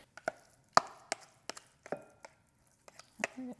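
Chopped vegetables and cooked couscous being stirred together in a bowl, heard as a series of sparse, close, sharp taps and scrapes with quiet gaps between them.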